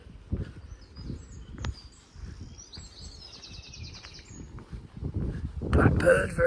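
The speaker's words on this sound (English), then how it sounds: "Blackbird very concerned," Blackbird giving agitated alarm calls outdoors along a breezy coastal road near St Lawrence on the Isle of Wight, sharp chips over steady wind rustle and footsteps, ending in a louder rush of wind.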